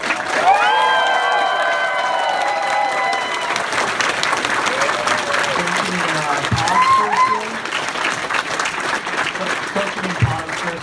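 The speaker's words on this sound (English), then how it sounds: "Now, all this cheer and applause is awesome" Closing ceremony audience at a Fur Square convention erupts in loud, sustained applause and cheering, dense clapping with scattered whoops and shouts, while voices call out over it and horn-like tones sound early on.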